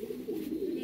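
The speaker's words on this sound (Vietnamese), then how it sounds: "Những con bồ câu non đây" Young French pigeons on a pigeon farm coo in a short, close, steady low murmur, with no voices heard.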